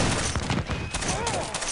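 Ragged musket volley fire from a line battle in the video game Battlegrounds 1.2.1, with dense overlapping shots crackling loud and close for under two seconds, a shouted voice faintly mixed in.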